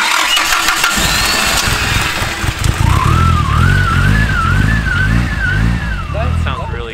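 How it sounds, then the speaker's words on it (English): A Nissan R30 car engine runs close by with a wavering, rising-and-falling turbo whine over a throbbing idle, while people talk over it. "Is that the turbo making that noise or just like whine?"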